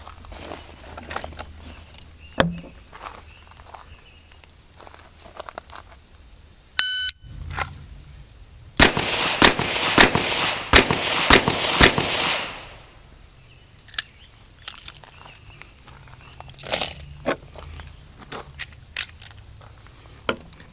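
During a revolver qualification string at 7 yards, a single beep is followed by six rapid, sharp shots fired at targets in a tight, evenly spaced burst, with quiet stretches before and after.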